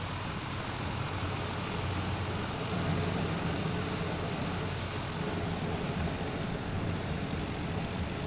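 A light aircraft's engine runs in Microsoft Flight Simulator 2020 while taxiing at a Malaysian airport, giving a steady, dense, unbroken drone at constant loudness throughout, with no talk.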